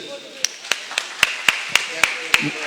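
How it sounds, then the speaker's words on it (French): An audience at a reception for new baccalaureate graduates in a sports hall claps in steady unison, with sharp, evenly spaced claps about four per second and faint voices underneath. "Et applaudissez-les."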